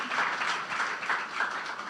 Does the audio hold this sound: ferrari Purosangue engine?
no